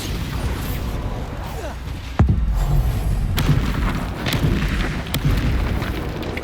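A Bombarda spell blast in Hogwarts Legacy lands as a heavy boom amid ongoing combat, followed by further thuds and crackling impacts, with shouted incantations mixed in.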